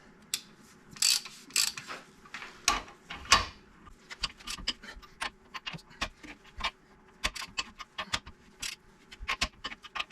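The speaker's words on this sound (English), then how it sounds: "Then torque these down to 140 foot-pounds each. It just go back and forth, one ratchet a piece, and it'll get it." A ratcheting torque wrench tightens U-bolt nuts to 140 foot-pounds while installing a lift block on a vehicle, giving a long run of crisp, close ratchet clicks in short irregular bursts, with no talk.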